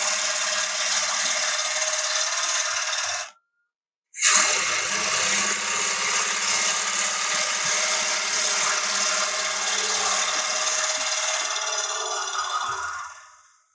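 A gouge steadily cuts away wood from a wooden bowl spinning on a lathe, giving a loud, continuous rushing scrape that stops briefly and then resumes for a long stretch before fading out.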